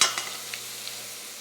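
Onions cook gently in melted butter in a pan, giving a quiet, steady sizzle with a few faint soft stirring ticks, no one talking.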